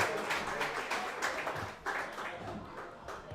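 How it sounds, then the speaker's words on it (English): An audience applauds a high school boys' lacrosse team with a steady wash of clapping that swells and fades slightly over a few seconds, heard at a moderate distance without speech over it. "I ask for you to give a round of applause to your team once again"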